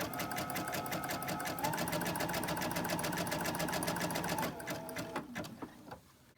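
Sewing machine running a wide zigzag stitch along a small fabric sachet bag, a steady rapid mechanical chatter for over four seconds, then slowing into a few separate clunks as it stops.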